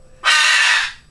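A pet bird gives a single loud, harsh squawk lasting under a second, close and alone against a quiet room.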